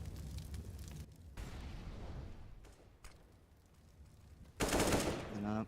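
Automatic gunfire sprays in the video game CS:GO during a competitive match, heard as bursts of rapid shots and booms at varying distance, the loudest burst near the end, with faint commentary underneath.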